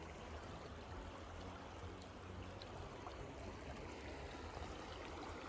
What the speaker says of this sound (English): The sound of a flowing river is actually very nice.